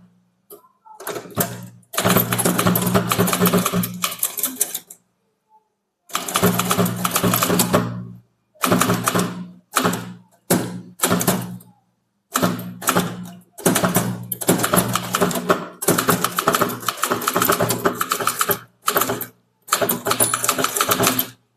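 Bursts of rapid mechanical clacking from a Tamil typewriter, a manual machine typing office-format text, with dense keystroke runs separated by short pauses and silent gaps, close and loud with no talking.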